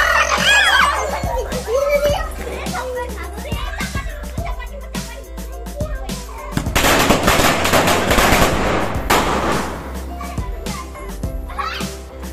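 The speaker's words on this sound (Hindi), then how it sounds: "अब लगाएंगे हम एक साथ सारे पटाखे में धमाके करेंगे, है ना?" A burst of Diwali firecrackers set off all at once crackles and pops in rapid, dense volleys, loud and close. Excited voices and shouting mix in throughout.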